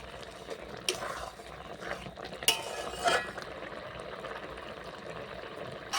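A spoon stirs milk and drumstick flower curry in a pan with soft scraping and a few clinks against the metal, low and close, over a faint simmer.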